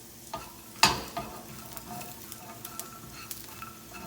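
Cheetos frying in a pan on a stovetop, with a soft steady sizzle under a few scraping stirs, one sharp clatter near the start and lighter taps afterward.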